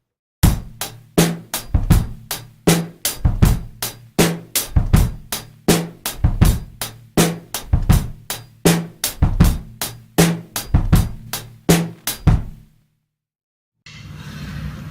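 On a drum kit, a steady groove with hi-hat, snare and the bass drum landing on the up of beat two repeats evenly for about twelve seconds, loud and close, then stops before a soft hiss.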